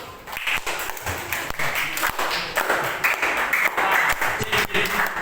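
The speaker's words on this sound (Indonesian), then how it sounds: "Oke, tepuk tangan dulu." Students in an Indonesian social studies classroom clap together on the teacher's cue, a ragged, close burst of hand claps that runs steadily for a few seconds with some scattered voices mixed in.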